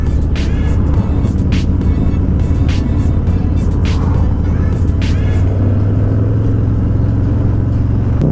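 Motorcycle engine during a group ride on a forest road, a loud continuous drone with heavy wind rush and repeated sharp gusts, steady throughout with the engine tone rising slightly late on.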